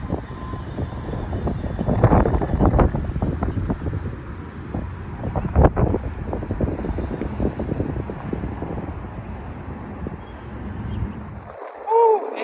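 Steady wind roars across the microphone, rumbling and gusting for several seconds before a sudden drop and a brief faint sound at the end.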